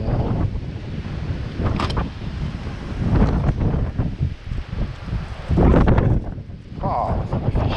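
Strong wind blows at beehives outdoors in February, heavy gusts buffeting the microphone with rumbling surges, while someone talks intermittently.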